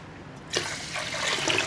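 Water is poured into a pot of rice and dal, a short close splashing rush that starts abruptly and keeps running with a trickling gush.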